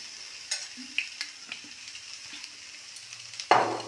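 Pasta with chopped vegetables such as carrots, peas and coriander is being stirred in a pan. Soft scrapes and light taps repeat at an uneven pace under a low sizzle, and one louder clatter comes near the end.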